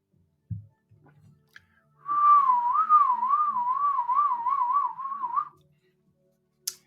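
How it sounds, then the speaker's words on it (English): A wavering, warbling whistle during a live online session rises and falls in pitch, holds for about three seconds, and is preceded by a few faint knocks and thuds, with no talking. "what's going on with the whistle?"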